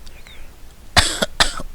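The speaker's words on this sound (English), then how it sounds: "she coughed" A woman gives two short, harsh coughs close up, one right after the other, following a quiet moment.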